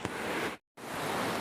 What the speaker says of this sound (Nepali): यहाँ रहेको छ हाम्रो तेस्रो खोला यानि कि दरौदी खोला है